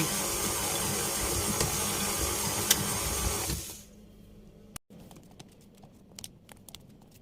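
An electric mixer beating chocolate chip cookie dough whirs steadily at high speed for a few seconds, then switches off, leaving a few light clicks and taps.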